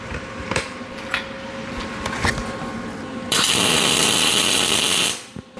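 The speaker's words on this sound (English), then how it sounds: "let's get a little weld on these, just a spot weld on a couple spot welds" Spot welding on steel parts for a homemade bench vice: after a few quiet knocks and clatters, a loud, dense crackling arc buzz starts abruptly and holds steady for about two seconds, then cuts off.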